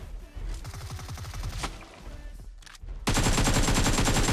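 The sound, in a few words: gunfire in a video game (ARK dinosaur game)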